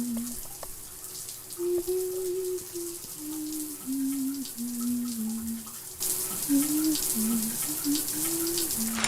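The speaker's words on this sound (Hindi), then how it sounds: "वो सोने जाने से पहले नहा रही होती है" Shower water runs as a steady hiss in an animated horror story, growing louder partway through, under a melodic voice or music line.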